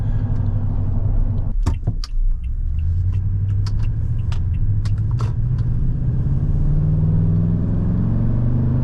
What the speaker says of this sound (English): This is such a good sounding engine.